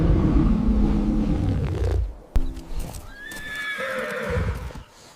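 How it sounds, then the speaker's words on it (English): A medium-sized black wild horse of the savanna neighs loudly and alone, with a long whinny after a rumbling stretch and a brief snort. "Medium black savanna wild horse."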